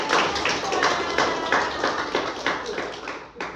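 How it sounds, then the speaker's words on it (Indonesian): An audience breaks into applause after a community children's-rights simulation performance, a sustained wave of many hands clapping that fades out over a few seconds. "kita beri tepuk tangan"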